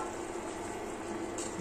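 A sardine fish curry bubbles steadily in a pot, a faint, even simmering hiss with no voices over it.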